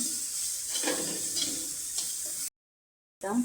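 Vegetables with turmeric being stirred in a frying pan, a soft steady sizzle with faint scraping strokes, broken by a short silence before the frying resumes.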